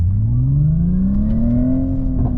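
A 2026 Hyundai IONIQ 6 N accelerating hard in third gear, a loud synthetic engine-like tone sweeping steadily upward in pitch, close and sustained.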